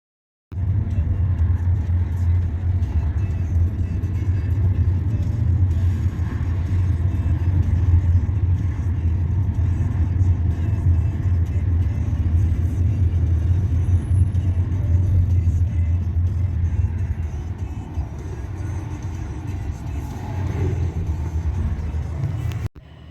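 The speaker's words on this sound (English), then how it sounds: "It took an hour and a half to travel 32 miles from the cemetery to our hotel because of traffic." Steady road traffic on Los Angeles streets, a continuous low rumble of passing cars heard from nearby, holding level for most of the stretch before easing slightly near the end, with no voices.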